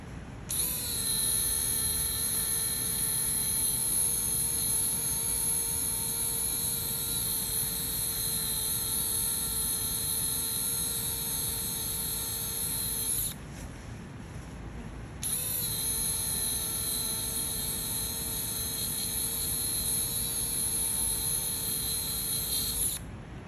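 A dermabrasion tool grinding down a scar whines at a steady high pitch, runs for a long stretch, stops briefly, then starts again and keeps going.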